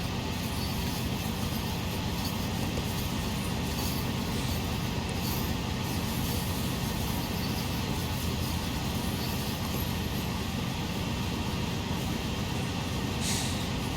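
A CSX Dash-8 diesel freight locomotive works under power on the Sand Patch grade, giving a loud, continuous low engine roar with a steady mechanical rumble and no breaks.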